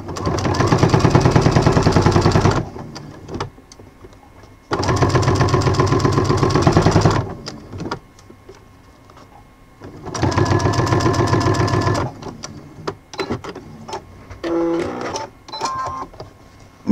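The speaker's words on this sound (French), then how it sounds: "Et on coud au point droit à 2 mm du bord du biais à peu près." A sewing machine runs in three long bursts of steady straight stitching along bias binding, loud and close, each burst separated by quieter pauses with small handling sounds and a short final run.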